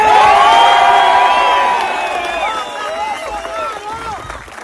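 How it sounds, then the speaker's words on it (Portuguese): A large crowd cheers and whoops for Jair Bolsonaro at an outdoor march toward Brasília, loud shouts and whistles rising together and slowly fading, with scattered voices continuing. "Eu quero uma salva de palmas para ele agora."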